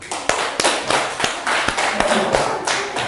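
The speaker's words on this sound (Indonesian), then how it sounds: "mari kita tepuk tangan dulu" A classroom group applauds a presenting group during a teacher-training session, a dense burst of clapping with a few sharper claps standing out, steady for about three seconds.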